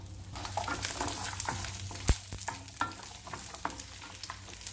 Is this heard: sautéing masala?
yes